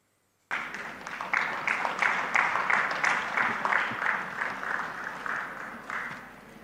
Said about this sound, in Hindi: पहले ताली सुनिए, फिर आगे की बात।